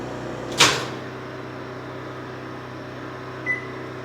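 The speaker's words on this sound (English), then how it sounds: "The white microwave is working." A microwave oven hums steadily, with a brief clunk near the start and a short beep a few seconds later.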